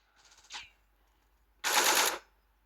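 Gunfire in the video game Counter-Strike: Global Offensive, a quick rattling burst followed after a pause by a louder, sustained automatic volley of about half a second, over quiet game background.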